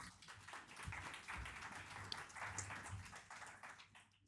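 A small audience applauding at a French pitch event, a faint, steady patter of hands continuing for several seconds.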